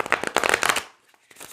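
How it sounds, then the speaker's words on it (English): Tarot cards are shuffled by hand in a quick burst of crisp riffling and flicking for under a second, then a few faint taps. "Okay, so I have shuffled a lot"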